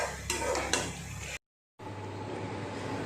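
Chicken and pointed gourd are stirred in a pan, with close metallic scraping and clatter of a utensil against the pan over a soft sizzle, a short silent gap, then quieter cooking noise.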